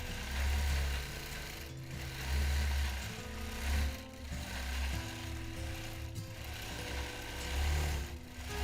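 A sewing machine free-motion quilting a paisley pattern runs in steady bursts at the far side of a quilt, its motor hum rising and easing with short pauses between stitching runs, close and moderately loud with no talking.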